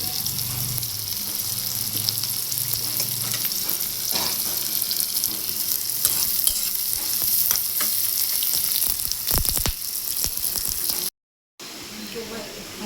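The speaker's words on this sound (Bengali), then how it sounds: "আমার পেঁয়াজ ভাজা হয়ে গেছে" Chopped onion and green chili sizzle steadily in hot oil in a pan with cloves, cinnamon and cardamom, stirred now and then with scraping clinks, a continuous close crackle that briefly cuts out near the end.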